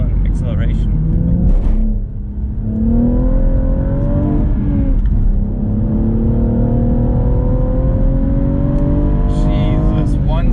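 A BMW M135i engine rises in pitch under hard acceleration, a loud close drone with a brief dip around a gear change. Someone talks over it for much of the time.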